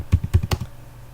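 A few quick keystrokes on a computer keyboard as a command is typed into a Linux terminal, about five close, distinct taps in the first half second, then quiet room tone.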